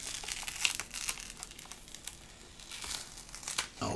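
Protective cellophane film crinkles and peels off the back of a cheap 7-inch gaming tablet, close and crisp, in a steady run of rustling crackles with a few sharper snaps.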